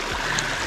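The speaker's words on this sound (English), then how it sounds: "We are looking at a full-on river coming down Squaw Peak Trail." A torrent of rainwater surges down Squaw Peak Trail in a steady, broadband rush, close and continuous for a brief moment.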